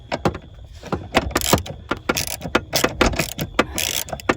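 A ratchet wrench tightens a 13 mm steering column bolt on a 1999 Jeep Cherokee XJ with a loose tilt column, giving rapid close clicking bursts in an uneven rhythm, no speech.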